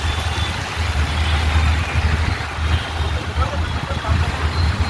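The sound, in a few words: busy road traffic in Pune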